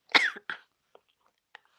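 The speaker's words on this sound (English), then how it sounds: "forgive me when I occasionally cough a bit" A person coughs close by, a harsh burst followed by a second shorter cough. A few faint small sounds follow in otherwise quiet surroundings.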